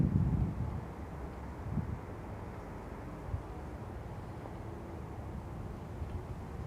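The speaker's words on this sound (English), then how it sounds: "Here we are on a windy plain off of Endicott Street." Wind blowing across an open plain off Endicott Street, a faint, steady rushing with slight gusts at the start, no other sounds.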